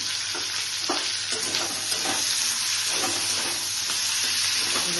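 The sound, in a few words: tomatoes frying in a pan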